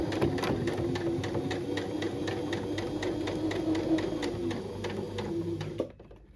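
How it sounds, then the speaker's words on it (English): A sewing machine straight-stitches across a shoulder strap, hammering out a close, even, rhythmic run of stitches for about six seconds before stopping abruptly. "then we just straight stitch across."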